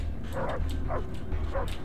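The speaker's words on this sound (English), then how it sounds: "Those dog barks, I mean, I can hear dog barks, but they sound distant" Muffled dog barks sound in Far Cry 3, about three short barks spaced evenly and heard as if from a distance over a low rumbling ambient bed.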